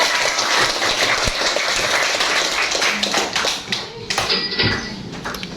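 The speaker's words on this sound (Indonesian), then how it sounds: "Tepuk tangan dulu untuk Anita." A group of children in a classroom in Ambon, Indonesia, claps together in a dense, uneven burst of applause, with a few young voices chattering underneath.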